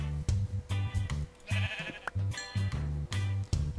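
Sheep in the video game Minecraft bleat over and over in a quick, steady run of short nasal calls, loud and clear, with no talking over them.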